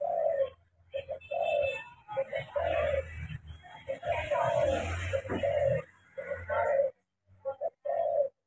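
Spotted doves cooing in a repeated series of soft, low hooting phrases with short pauses between them, fairly close, with someone talking over part of it.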